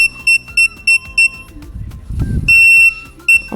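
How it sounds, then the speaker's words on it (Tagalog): Loud electronic alarm beeping in short, evenly spaced bursts, then a pause filled with rustling and handling noise, followed by a longer sustained beep and one more short beep. "Pero may alarm."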